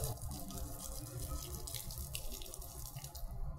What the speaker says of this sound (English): we go around and if we see water bottles that have water in it, we just drain it.